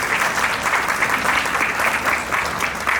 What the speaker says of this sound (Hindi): इन सभी कलाकारों के लिए एक बार जोरदार तालियां फिर से मैं चाहूंगा आप जरूर